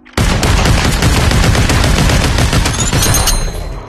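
Rapid automatic gunfire in the battle game Population One, loud and sustained for several seconds with dense, overlapping shots and no talking.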